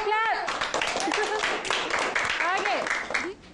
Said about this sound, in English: Let's give Cloudy a clap.